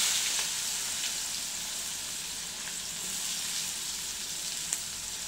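Onions frying in a pan for aloo shimla mirch bhaji, a steady soft sizzle with faint crackles and a few brief pops, no talking over it.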